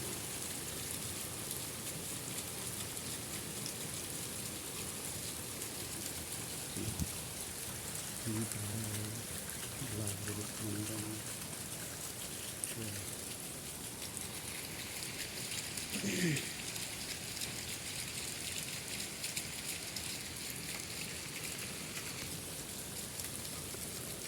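Steady rain falls outdoors through the whole stretch, a constant wash of drops on surfaces, even and moderately loud, with a few brief bird or voice-like sounds over it.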